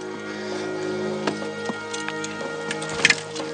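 A horse's hooves clip-clop on hard ground in a sunny outdoor period scene, a steady irregular series of sharp knocks over a faint background hum.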